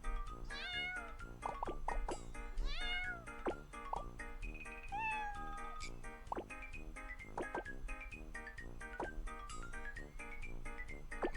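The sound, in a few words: cat meowing in the Block Cat Jam mobile puzzle video game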